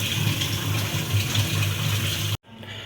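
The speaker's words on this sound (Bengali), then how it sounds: "এই যে এখানে সৌরভ মাংসটা ধুয়ে নিচ্ছে" Chicken meat is washed under a running tap, a steady close gush of water that stops abruptly near the end.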